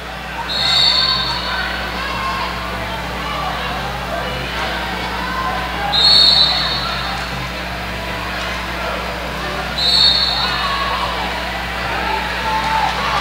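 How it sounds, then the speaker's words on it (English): Three short, shrill referee whistle blasts ring out a few seconds apart at a roller derby bout between the Rose City Rollers' Rockets and Storm City Roller Girls, sitting over a steady crowd murmur and an announcer's voice. "I hear a lot of whistles down there on the track."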